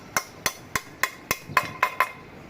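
A hammer strikes a bearing into a Yamaha Touch 126 engine in eight evenly spaced, ringing metallic taps, close and sharp, with the last few hits brighter and quicker.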